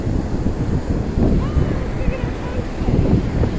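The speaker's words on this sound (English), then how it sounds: "Close to the ocean." Ocean waves break close by, a steady loud rush of surf with heavy wind noise buffeting the microphone, while faint voices come through briefly.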